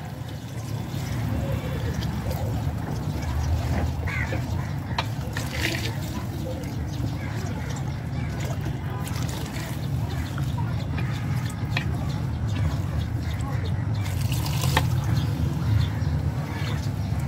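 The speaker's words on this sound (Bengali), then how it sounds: "এখন দিয়ে দেব পরিমাণ মতো গরম পানি" Hot water is poured into a large pot of rice, chicken, potatoes and peas cooking for an outdoor picnic, giving a steady watery rush that runs throughout at moderate loudness over a broad background din.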